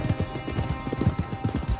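Horse hooves clip-clopping in Red Dead Redemption 2, a steady, dense run of close hoofbeats at a walking-to-trotting pace over a faint background hum, with no talk.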